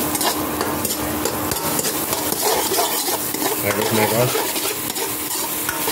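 Onions sizzle loudly in a hot pan while being stirred, with continuous crackling frying and occasional scrapes of a utensil against the pan; a voice briefly speaks.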